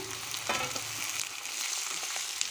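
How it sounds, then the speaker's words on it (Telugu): Chopped onions sizzling steadily in a hot pan for colocasia curry, with a few soft scrapes as they are stirred, a continuous close frying hiss and no talking. "ఉల్లిగడ్డలు వేసేస్తున్నాను ఇది వేగినాయి ఉల్లిగడ్డలు ఇందులోకి దీన్ని కూడా వేసేసి కాసేపు అలా కలుపుతాము"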